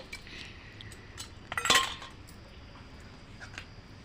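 Prawn pickle being stirred with spices, chilli powder, salt, ginger and garlic in a bowl, with soft scraping and a brief bright clink of a utensil against the bowl near the middle, close and quiet.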